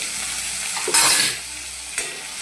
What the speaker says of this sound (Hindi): ये टमाटर कट करके रखे हैं उसको डाल देंगे